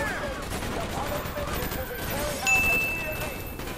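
Call of Duty: Black Ops gunfire, a muffled fusillade of shots mixed with game noise and a beep, moderately loud and sustained through the moment.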